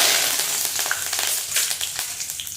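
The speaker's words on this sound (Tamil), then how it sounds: "கடுகு பொட்டிடுச்சு" Hot oil sizzles and crackles with quick irregular pops, like small seeds spluttering in a pan, fairly close and fading slightly.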